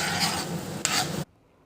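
Urad dal, chana dal, mustard seeds and cumin fry in hot oil, a close, dense sizzle with a stirring scrape for just over a second before stopping abruptly.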